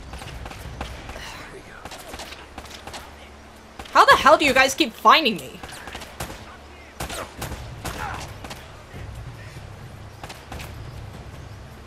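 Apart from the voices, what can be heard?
gunfire in video game Uncharted Drake's Fortune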